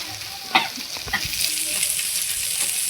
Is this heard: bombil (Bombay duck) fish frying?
yes